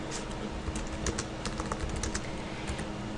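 Computer keyboard typing in a quiet room, a steady patter of light key clicks with a few sharper taps, close and fairly soft.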